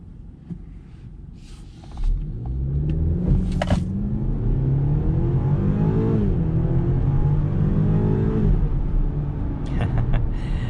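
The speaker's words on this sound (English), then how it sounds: "I'm gonna go ahead and try brake boosting this X3 and see what happens." A 2022 BMW X3 compact luxury SUV, heard from inside the cabin, revs up and holds against the brakes in a loud, steady drone that climbs in pitch, while a person talks over it.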